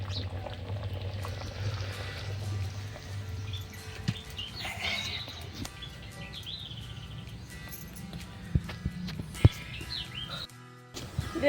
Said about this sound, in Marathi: अशी उकळी येऊन द्यायची गदा गदा आणि मग खाली उतरायचं